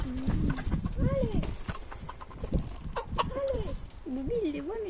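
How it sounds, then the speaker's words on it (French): A hen clucks repeatedly in short, rising calls, with other fowl and some background voices mixed in nearby. "C'est la poule."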